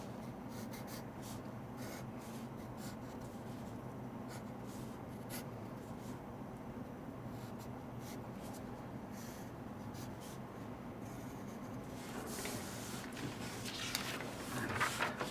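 A pencil drawing a cube on paper, soft continuous scratching and rubbing strokes close by in a quiet room, growing slightly busier toward the end.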